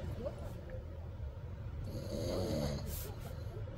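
Low, rumbling snores repeat inside a parked van near Barcelona under a steady wash of background noise, with a brief higher hiss near the end.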